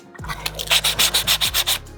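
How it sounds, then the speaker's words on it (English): Rhythmic sanding strokes rub back and forth across a 3D print, about nine quick scrapes in a steady rhythm, close and clear with no talking. "Just sand down most of the big layer lines and sand it as smooth as I can"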